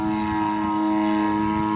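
A Hostetler 33% Super Chipmunk model airplane in flight, its engine and propeller droning as a steady loud tone with strong sustained harmonics, alone without talk.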